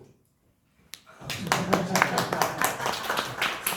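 Church congregation clapping at a Korean worship service: after a brief near-silence, a single clap, then a burst of applause builds into steady, moderately loud clapping from the gathered audience.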